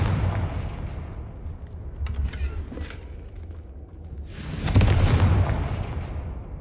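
Confringo fire spell blasting in Hogwarts Legacy, a sharp burst near the start followed by a louder, broader whooshing blast toward the end over low ambient rumble.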